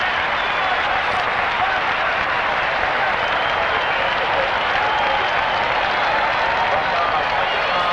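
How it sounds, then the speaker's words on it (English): Stadium crowd at a 1983 Atlanta at Chicago football game roaring for Walter Payton, a loud continuous cheer that stays steady for the whole stretch. "listen to the crowd respond to Sweetness"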